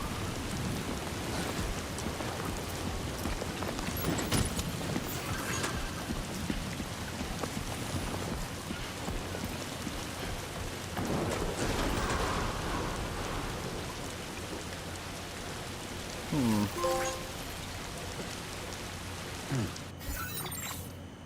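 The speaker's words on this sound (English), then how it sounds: "I wonder if there's a way to wait for the damn rain to quit." Constant rainfall in Death Stranding 2 hisses steadily throughout, with scattered crackles, a few tonal game chimes and brief thuds layered over the downpour.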